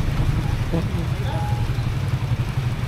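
Heavy rain drums steadily on a vehicle driving in traffic on the road toward Atok, Benguet, Philippines, a dense, constant wash heard from inside, with a low engine-like rumble underneath.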